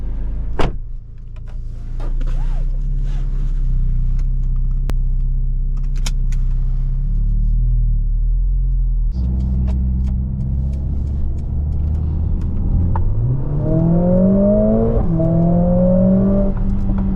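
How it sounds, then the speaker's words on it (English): A Mercedes-AMG A 45 S 4MATIC+ engine while driving through Lake Como's hills, a deep steady drone from inside the cabin that then rises sharply in pitch as it revs and accelerates through the gears. "Listen to this engine, bro."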